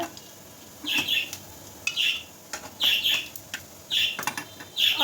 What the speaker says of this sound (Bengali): আর এই পাখিগুলো কি বলবো আমি ভয়েস দিতে গেলে পারে একদম চিল্লাচিল্লি শুরু করে দেয় আমার সাথে সাথে ওরাও